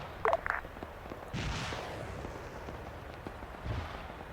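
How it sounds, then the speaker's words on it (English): Rockets firing and impacting in the Arma 3 military game: a couple of sharp bursts near the start, then a broad rushing blast and rumble that trails off, with another low thud near the end. "I'm just gonna fire some rockets around him."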